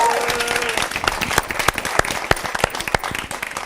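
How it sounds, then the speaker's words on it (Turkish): A live audience gives a burst of applause at a Turkish show. The clapping is dense and lively, with a few sharper close claps, and a voice is briefly heard at the start. "Bir alkış ya."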